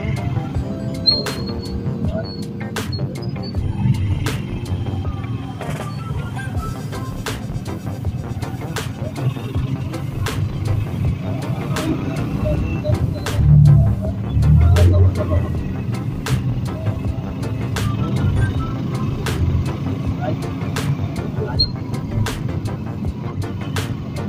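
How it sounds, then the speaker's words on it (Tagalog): Road traffic near Taytay, Rizal, Philippines, heard from inside a moving vehicle: a continuous low engine and road rumble with scattered clicks and passing-vehicle swells, while people talk casually over it. "Daming traffic."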